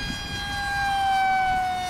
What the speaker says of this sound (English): Fast flyby.